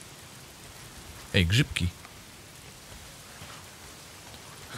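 Steady rain falls throughout a stealth survival video game with an infected, virus-ridden world, a constant soft hiss under a brief spoken exclamation.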